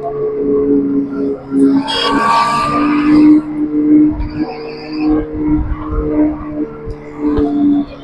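Electric bike in sport mode with its simulated exhaust sound switched on, giving a steady engine-like hum with rising tonal whines during a test drive, close and fairly loud throughout.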